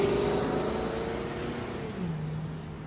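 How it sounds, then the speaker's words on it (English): A 2015 Chevrolet Camaro SS V8 idling in park, its deep engine note falling smoothly from a light blip of the throttle back down to a steady low rumble, close up and alone. "if I step on the gas a little, it'll go ahead and go up. And this is a V8 engine"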